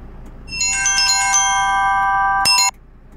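Mobile phone ringing with an incoming call, a bright multi-tone ringtone melody rising in over low room noise, steady and fairly loud, then a brief sharper burst before it cuts off.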